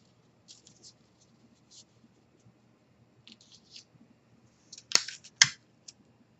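Scissors trimming paper sewing pattern pieces along the edges, faint snipping and paper rustles in short bursts, ending with two louder crisp cuts, close by in a quiet room.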